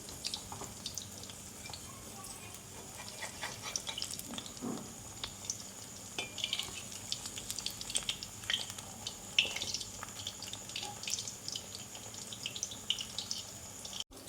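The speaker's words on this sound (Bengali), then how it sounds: "এগুলো ভেজে নেই, লো আছে মুচমুচো করে ভেজে নিব।" Paneer chops fry in oil on low heat, a soft steady crackle and sizzle with faint scattered pops, fairly quiet throughout.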